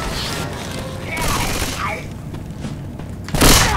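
Gunfire in the zombie shooter Left 4 Dead, a scattered burst of game weapon shots and thuds with a louder crack near the end, mixed with game noise and voices.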